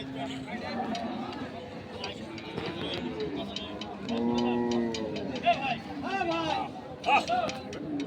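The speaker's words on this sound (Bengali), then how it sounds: "আমরা দেখছি বলদ দুটিকে" Haryana-breed bullocks of about 1,200 kg, standing at a busy cattle market, give several drawn-out moos and lowing calls among a steady hubbub of nearby voices and crowd chatter.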